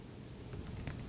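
Light, quick clicks of typing on a laptop keyboard while writing a Python program, a short run of soft keystrokes close to the microphone over a steady low hum.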